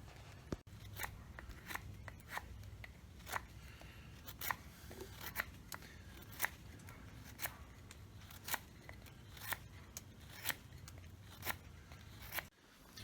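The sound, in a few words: knife carving a wooden bow drill spindle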